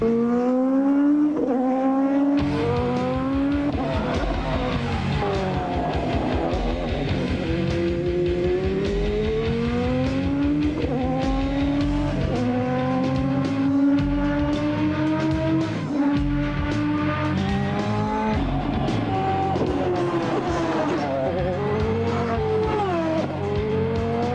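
A 1990s IndyCar race car at full boost and full revs, its loud engine climbing and dropping through repeated gear changes as it laps, close and continuous with no talk.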